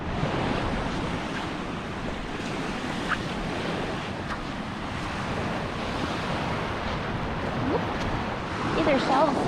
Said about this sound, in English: it's kind of a fun little spot to see just beach, just ocean beach